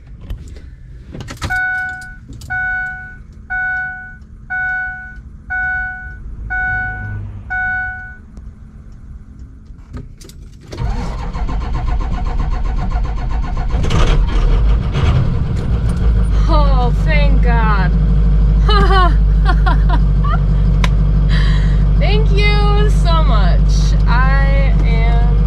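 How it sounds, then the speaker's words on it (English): A school bus conversion, its battery weak after the headlights were left on overnight, chimes in a repeating pattern before the engine cranks and starts, then runs loud and steady as someone talks over it. "I guess we'll see if the bus will start."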